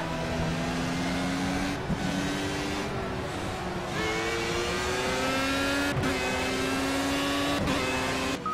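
A race car engine in a Formula A racing game revs hard throughout a fast pole-position lap. The loud, continuous whine climbs in pitch with brief dips at gear shifts and no voices.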